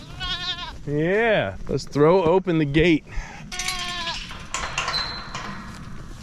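Goats bleating as they are let out through a gate into new pasture, several wavering calls close by in quick succession, interleaved with someone talking to them.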